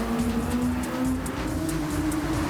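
Suzuki VGT race cars in Gran Turismo 7 roar as they lap the track, a loud, continuous engine drone with a steady pitch and no talking.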